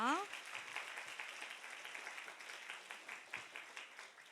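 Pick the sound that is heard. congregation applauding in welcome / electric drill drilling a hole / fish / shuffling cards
congregation applauding in welcome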